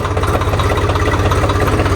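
A low-horsepower Swaraj tractor engine runs at idle without being revved, giving a steady, loud, close, rhythmic diesel thrum with no voices.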